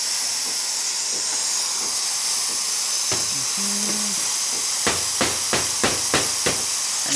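De'Longhi Magnifica espresso machine's steam wand frothing chocolate milk, a steady close hiss filling the clip, with a quick series of sharp knocks toward the end and no voices.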